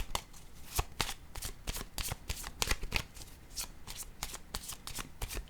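Tarot-style cards are shuffled and laid out for a reading, giving rapid, close, crisp riffling flicks and slaps in an uneven rhythm with no talking.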